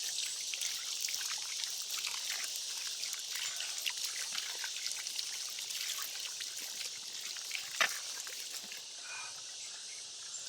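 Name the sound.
water pouring and trickling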